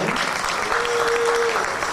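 A crowd at a Ganesh Utsav event applauds continuously, a dense wash of clapping at moderate loudness throughout.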